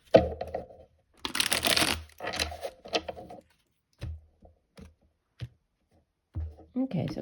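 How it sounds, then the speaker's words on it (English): Tarot cards are shuffled in one brisk, crisp burst of about a second, surrounded by a person talking with pauses and a few small taps and handling noises. "Okay, we'll do one last shuffle."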